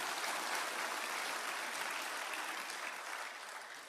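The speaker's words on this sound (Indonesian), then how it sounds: "Tolong berikan tepuk tangan saya." An audience applauds in a dense, steady burst of clapping that fades slightly toward the end, with no talking.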